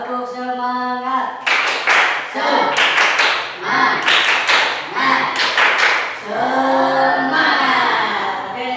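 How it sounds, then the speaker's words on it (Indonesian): A school class in Bandung claps a rhythmic cheer together, bursts of loud hand claps in patterned groups, with a teacher's voice speaking between and around the clapping. "Kita tepuk semangat dulu ya."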